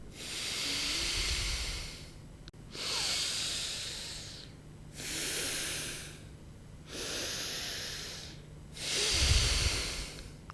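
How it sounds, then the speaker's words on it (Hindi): Alternate nostril breathing in a yoga pranayama session: five long, steady, hissing breaths through the nose, each lasting about two seconds with short gaps between, close and even, with no talking. "फिर दाएं से श्वास को भरते हैं और बाएं से श्वास को बाहर छोड़ देते हैं"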